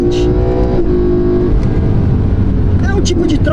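A 2012 BMW M3 E92 with a DCT gearbox accelerates hard, its engine note climbing and then dropping as a paddle-shifted gear change lands. Loud, close, and with someone talking over it.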